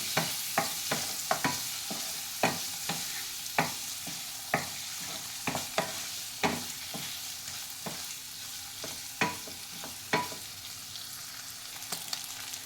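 Paneer pieces stir-frying in oil in a pan, with a constant hiss of sizzling under a long run of regular, close spatula taps and scrapes against the pan.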